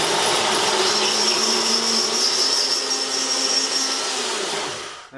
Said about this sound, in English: I'm going to put the drill bit in the hole just to make sure everything fits, and start it very slowly